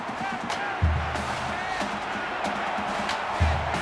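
Stadium crowd in NCAA 14 football at Alabama roars steadily in the background, a sustained cheering wash with occasional thumps, under game audio.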